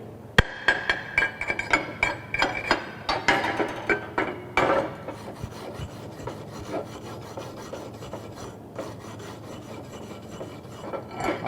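A weld on a steel butt-joint workpiece is cleaned after welding, probably with a wire brush or chipping tool. Sharp rasping scrapes and knocks come in quick bursts early on, then give way to quieter, scattered scratching.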